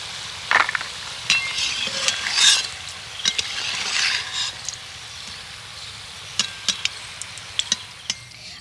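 Crispy raw potato and flattened rice snack in hot oil, with loud frying crackle and scattered sharp clicks of a utensil as pieces are lifted out to drain, then a quieter stretch.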